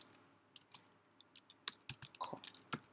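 Keys clack on a Mac keyboard in irregular bursts of quick, close taps with short pauses between, against a quiet background.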